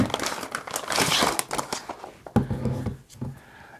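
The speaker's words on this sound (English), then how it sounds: "So open up the Ziploc." A Ziploc plastic bag is opened from around a RYOBI 40V 12Ah battery, giving close, loud crinkling and rustling in irregular bursts with a few sharp snaps.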